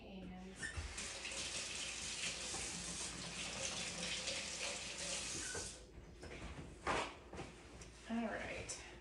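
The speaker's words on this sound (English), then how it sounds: "Wash my hands." Hands are washed under a running kitchen tap, a steady close rush of water splashing in the sink for several seconds, then a few clinks and softer handling noises as the flow stops.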